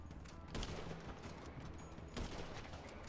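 Gunfire in GTA 5 Online, two sharp gunshots about a second and a half apart, standing out over a steady rumble of game noise.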